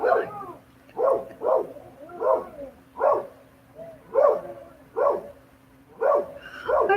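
Dogs belonging to a neighbour bark again and again in short, loud bursts about once a second, close by, with a steady low hum underneath and no talking.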